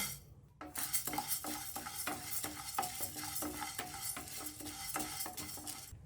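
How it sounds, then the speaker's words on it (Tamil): Toor dal dry-roasting in a pan while being stirred, a soft crackling sizzle broken by a steady series of scraping strokes of a spatula against the metal, close and fairly quiet, no voice. "இப்போ துவரம்பருப்பு வறுபட்டுருச்சு"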